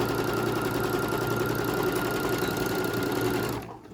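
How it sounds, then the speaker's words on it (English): A chain-stitching sewing machine runs a big seam through fabric, a loud steady mechanical whirring hum with rapid even stitching pulses that stops abruptly near the end. "Now I'm making a really big seam on these"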